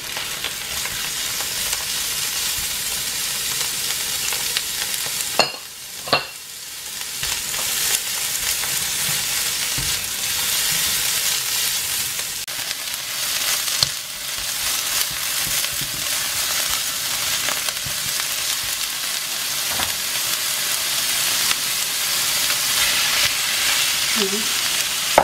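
Pork belly stir-fried in a hot pan with mushrooms for chow mein gives off a steady, loud, broadband sizzle that runs throughout, with a brief clatter of the pan near the start and no talking.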